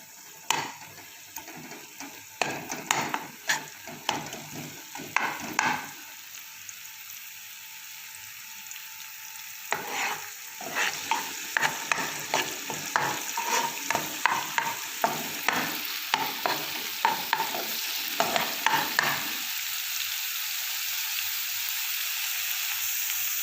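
Garlic paste sizzles in about two spoonfuls of hot cooking oil, with a steady frying hiss throughout and a spoon stirring in rapid scraping strokes that pause briefly midway.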